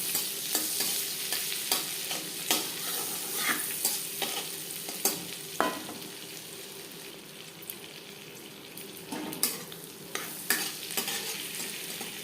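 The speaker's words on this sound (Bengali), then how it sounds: "আমি বাটার আর রিফাইন্ড অয়েল মিশিয়ে তৈরি করছি" Butter and refined oil melting together in a pan for butter chicken, a low sizzle under a rapid series of sharp spatula taps and stirring scrapes, close and steady.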